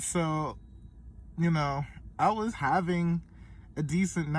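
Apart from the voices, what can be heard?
None of the usual background noises is heard.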